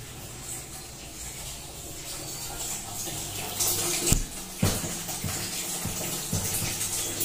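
A bathroom water tap left running pours steadily into a basin or tub, a continuous close splashing wash with a few louder knocks and splashes near the end.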